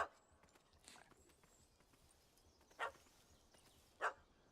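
A dog in The Witcher 3 video game giving a few faint, spaced barks against quiet outdoor ambience, three short sharp yelps across a few seconds.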